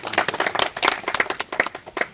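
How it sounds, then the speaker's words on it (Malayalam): An audience claps for five young farmers at an inauguration ceremony: dense, steady applause with many hands, fairly loud and continuous for a couple of seconds, with no talking over it. "നമുക്കൊരു നല്ല കയ്യടി ആ അഞ്ച് ചെറുപ്പക്കാർക്ക്"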